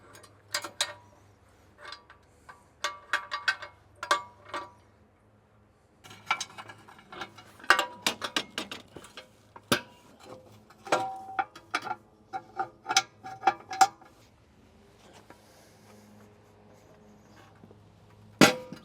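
A quick hitch being removed from a tractor's 3-point hitch, heard as scattered metallic clicks, clanks and ratcheting taps at irregular intervals over a low idling hum, with no talk.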